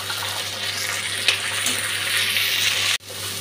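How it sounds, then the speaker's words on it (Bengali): Chopped onion, green chili and tomato fry in a pan of oil while a taro and katla fish curry is cooked, giving a steady close sizzle that drops out briefly near the end. "পেঁয়াজ টমেটোটা ভাজা হয়ে গেছে"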